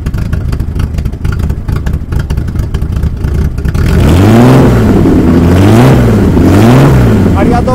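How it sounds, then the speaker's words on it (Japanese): A Nissan F30 Leopard with Weber 45mm carburettors idles roughly with clattering pulses, then the exhaust rises in several loud revs that swell and fall rhythmically. "それではね、排気音も聞かせてください。"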